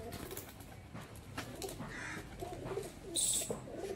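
Pigeons cooing around a loft of Bengali high-flying tumbler pigeons, a soft, murmuring coo over a busy, rustling background with a brief brighter burst near the end.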